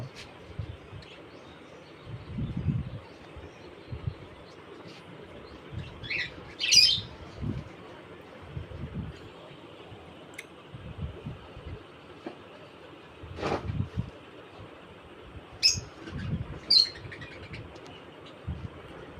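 Cockatiels and other birds in an aviary give scattered squawks and chirps at irregular intervals, some sharp and near, over low background rumbling and knocks.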